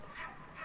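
A brief, faint bark from a dog outdoors, heard far off and muffled against quiet room tone.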